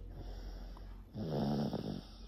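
A feverish young child with the flu snores while asleep, a close, loud rasping breath that swells in the second half.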